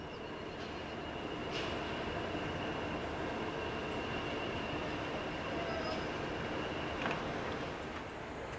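An English Electric Class 20 diesel locomotive in DRS blue, heard as a steady, distant rumble of engine and rolling stock with faint wheel squeal, quiet and unbroken throughout.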